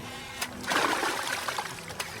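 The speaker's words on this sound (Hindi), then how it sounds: "पानी बाढ़ मार रहा है" Floodwater splashing and sloshing through a village, a steady wet wash with a few sharper splashes rising over it, moderately close.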